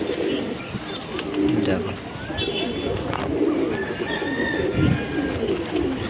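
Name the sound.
pigeons cooing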